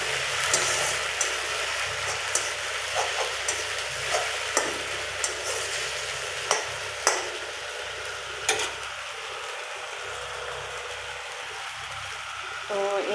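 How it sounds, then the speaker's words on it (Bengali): Jute leaves cooking in a pan. A close, continuous sizzle carries on throughout, broken by periodic clicks and scrapes of stirring. "পাট শাকটা দিয়ে দিলাম।"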